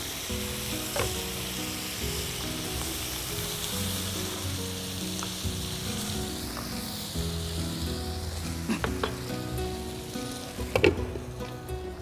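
Grilled prawns cook in butter in a pan, giving a steady, even sizzle with light stirring and a few small pops and clinks near the end.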